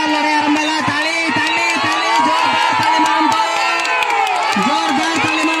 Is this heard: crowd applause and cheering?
yes